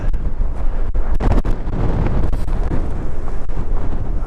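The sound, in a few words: strong wind on Moel Siabod mountain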